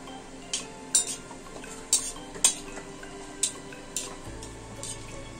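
Bay leaves, green cardamom, black peppercorns and cloves drop into hot oil, giving a faint steady sizzle punctuated by about eight distinct metallic clinks of a spoon against the pan, with soft music underneath.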